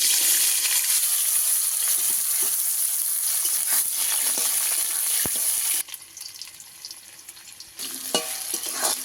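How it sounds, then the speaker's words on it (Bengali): Small cut pieces of elephant foot yam frying in hot oil give a continuous bright sizzling hiss. Occasional utensil clicks and stirring scrapes sound close by, and the sizzle drops briefly before picking back up. "ওলটাকে ভেজে নেব।"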